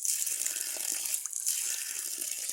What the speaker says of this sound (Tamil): அந்த ஊற்று தண்ணி தான் இது